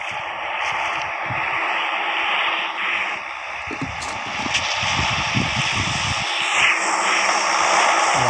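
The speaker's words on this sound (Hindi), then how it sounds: "अगला प्लेन आया ड्रॉप का" A supply drop airplane drones overhead in a battle royale game, a loud continuous engine roar that swells slightly as it passes, with scattered rumbling game noises underneath and no talk.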